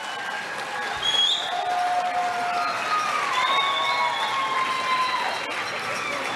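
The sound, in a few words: graduates cheering and shouting to the crowd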